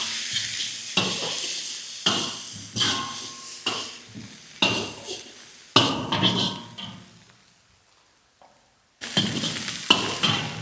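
Ginger garlic paste fries in a pan for a fried-rice dish, with hissing sizzle and repeated scraping strokes of a spoon against the pan. The sound stops briefly near the end, then returns loudly.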